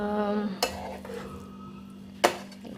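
Liver fry being stirred in a pan for a Sunday special, with two sharp utensil scrapes and knocks against the pan over a low steady hum, no talking.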